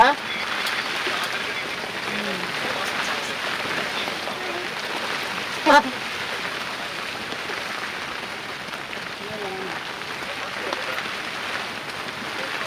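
Heavy rain falls at night outside a hut, a steady dense hiss of drops hitting surfaces that continues throughout, with one brief sharper knock partway through.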